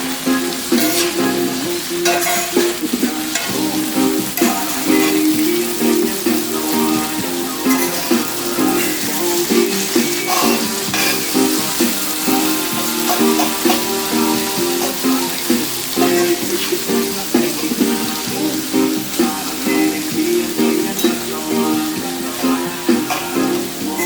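Ackee and saltfish with thyme frying in a pan while being gently stirred, a steady close sizzle with crackling pops running continuously throughout, with no talking.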